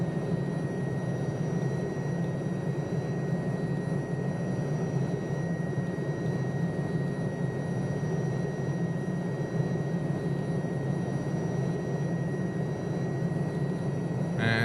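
An Alouette III helicopter spools up for takeoff in Microsoft Flight Simulator, a loud, steady turbine whine and rotor roar holding constant throughout with no voices.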